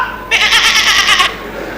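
A goat bleats once, a single wavering, nasal cry lasting about a second, loud and close against a quiet background.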